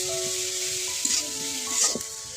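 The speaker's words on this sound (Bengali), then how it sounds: "এখন বেশি করে নাড়াচাড়া করে ঝরঝরা করবো আমি, ভাজা ভাজা করে পরে নামাবো" Sweet pumpkin greens sizzle and fry in a pan while being stirred, a steady close hiss with a few scraping swells of the spatula.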